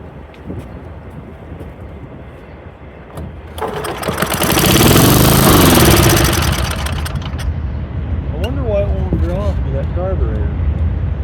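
Old Sears and Roebuck push lawn mower engine firing up and running close by, rising to a loud roar for a couple of seconds then settling to a rough steady drone, with a voice speaking over it.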